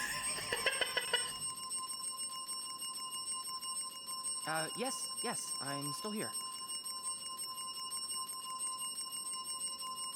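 A desk bell struck repeatedly in the video game This Bed We Made, a cluster of bright dings early on, then quieter, with a voice talking in the middle over a steady tonal game background.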